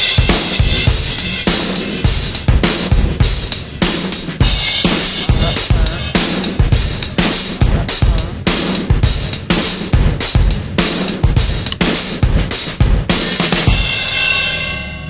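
A metal drum kit pounds a steady, slamming 8th-note groove, then shifts into a syncopated pattern with heavy crash and cymbal wash, loud and close throughout, ending on a ringing cymbal decay.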